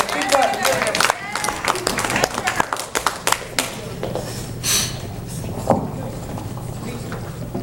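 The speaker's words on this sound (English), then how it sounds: "Keep clapping, keep clapping." An audience at a comedy club claps in a loose, uneven patter that is strongest early and thins toward the end, with a voice speaking over it.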